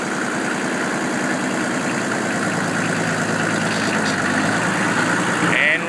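A Kubota M4050 tractor engine drones at a loud, steady, low rumble from close by, with even diesel vibration throughout. There is no distinct rise as it pulls away in fifth gear.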